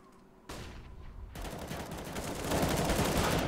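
Gunfire from the video game CS:GO on the Nuke map, including a wallbang shot. Bursts of shots and sprays build and grow louder over a dense, noisy background.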